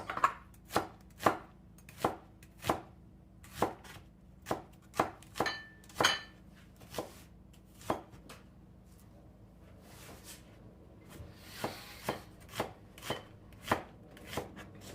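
Vegetables sliced into long strips for a noodle stir fry, a knife striking a cutting board in a steady run of crisp, close chops, about one every half second.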